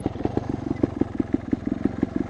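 A Vertigo Nitro 300 trials motorcycle engine, 2022 model, revs low at the bottom of its range, giving a steady, close, rapid thumping pulse with no voices over it.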